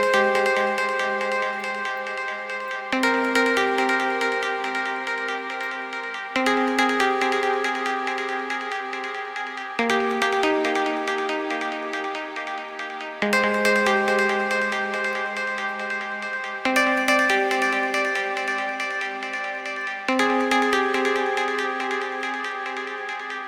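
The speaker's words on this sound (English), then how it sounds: "Now this lead kind of just like teases the main one that comes in a second" A synthesizer lead from a VST plugin plays a teasing melody alone, sustained bright notes changing every few seconds in a steady, even repeating phrase.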